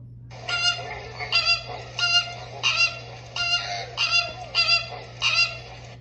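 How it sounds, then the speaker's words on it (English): A flamingo gives eight harsh, honking calls in a steady, evenly spaced series over a low constant hum, clear and close with no voices. "fluting like a flamingo"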